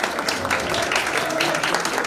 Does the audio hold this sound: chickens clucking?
no